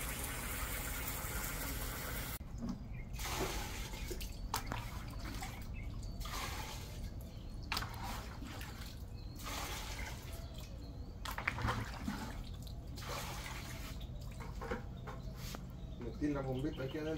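A small pump drains water from an outdoor cistern, running as a steady low drone beneath frequent talk and splashing, with children bathing nearby.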